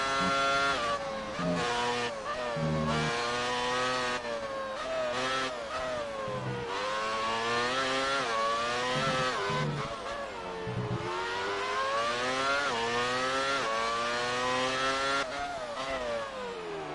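Formula 1 race car engine in the F1 2018 racing game, a loud, continuous high-pitched whine that rises and falls through repeated gear shifts, heard close and alone with no talk.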